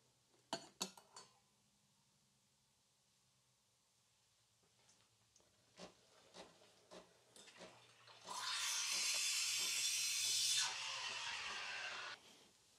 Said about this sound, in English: Now we just steam up some milk.